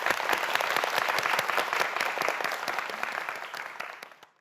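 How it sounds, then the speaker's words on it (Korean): A studio audience on a Korean science quiz show claps warmly for student contestants: dense, steady applause that holds for several seconds before quickly dying away. "안희경 학생을 위해서도 큰 박수 부탁드립니다."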